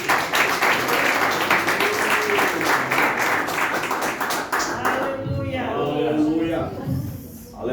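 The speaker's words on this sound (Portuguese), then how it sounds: "Vamos receber os servos de Cristo aplaudindo Jesus bem forte," A church congregation claps during a missionary week service, loud and dense at first, then thinning after about five seconds as voices and singing come through over the fading clapping.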